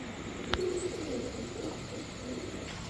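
A pair of Shapchila pigeons, male and female, gives low cooing murmurs close by, with a short bright chirp near the start over a faint steady background hum.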